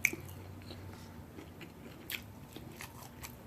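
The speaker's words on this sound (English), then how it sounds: "here's a fried calamari that I wish was crunchy" Fried calamari being chewed up close, soft and not crunchy, with a sharp bite at the start and then quiet wet chewing and small crackles over about three seconds.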